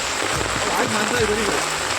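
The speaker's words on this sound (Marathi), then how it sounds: "पाऊस लय जोराचा आला आहे" Heavy rain pours down steadily in a Sahyadri hill village during the Ganesh festival, a dense, even hiss of drops on surfaces with a voice faintly beneath it.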